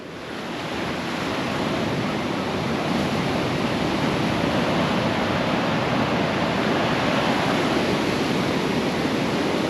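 Monsoon sea waves near a fort on the Goa coast make a broad, unbroken roar of surf that swells up in the first second and then holds steady and loud.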